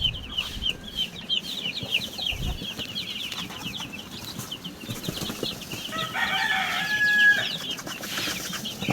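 Chickens and chicks scratching about at a poultry yard, a mix of nearby clucking, high peeping and short crows with wing rustles over a busy outdoor background.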